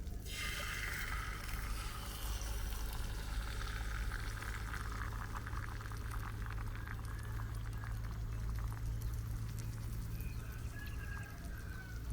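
Eggs fry steadily in butter in a hot carbon steel skillet, a continuous crackling sizzle that stays even throughout.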